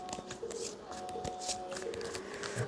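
Tarot cards being shuffled and drawn by hand, a steady run of soft papery riffles and slaps lasting throughout, close and moderately quiet.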